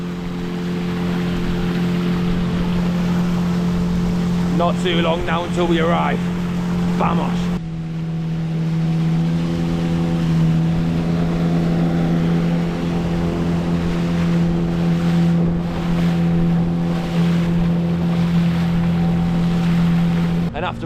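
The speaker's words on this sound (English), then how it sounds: "And after a long bumpy boat journey" Motorboat ride along a river through the Colombian jungle, a steady loud engine drone with wind and water noise throughout, someone speaking briefly over it.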